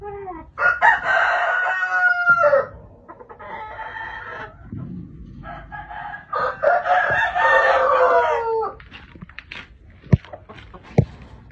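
A Thai-American breed fighting rooster crows loudly and close among three hens, with several long strained crows, clucking in between, and a couple of sharp knocks near the end.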